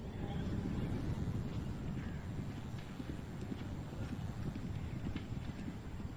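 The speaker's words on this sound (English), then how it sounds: "The bay horse with the white face" Bay polo horse with a white face moving on the field at a polo cup, with a muffled rhythmic clatter of hooves under gusts of wind noise, steady and moderately close, with no clear voices.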